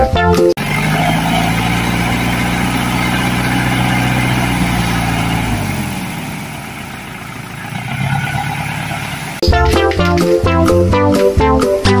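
Toy sand dump truck, most likely a motorised one, gives a steady loud droning motor hum for about nine seconds, shifting pitch partway through, then breaks into clattering and knocking near the end.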